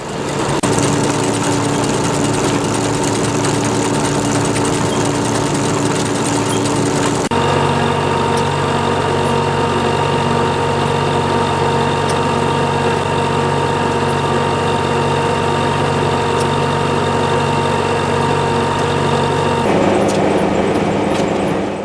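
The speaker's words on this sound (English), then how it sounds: "You just fork the sheaves into the conveyor and the machine does all the work." An International threshing machine with a wind stacker runs steadily and loudly, its engine droning with a constant hum and a sharp change in tone partway through.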